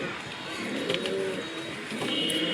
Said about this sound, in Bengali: পায়রা খুব সুন্দর পায়রা আছে